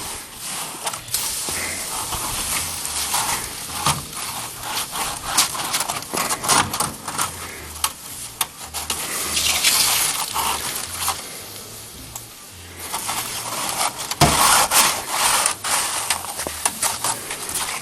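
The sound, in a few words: scrubbing maple syrup pan clean with snow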